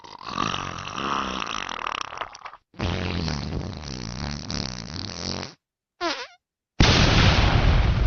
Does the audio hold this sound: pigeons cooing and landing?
no